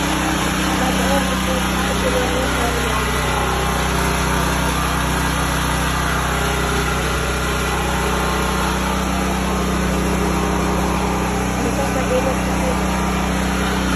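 A small generator engine runs steadily at close range, a loud continuous buzzing drone with no change in pitch, and someone talks over it at times.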